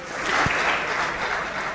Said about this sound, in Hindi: जोरदार तालियों से स्वागत कीजिए भैया हरि बहादुर सिंह हर्ष जी का।